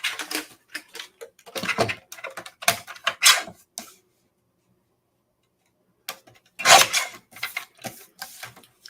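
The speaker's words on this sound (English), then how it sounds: "Now I'm just going to trim off the edges because I don't need this big of a piece of cardstock." A paper trimmer cutting the edges off a sheet of cardstock, a close run of quick clicky cuts and scrapes, then a pause, then another short burst.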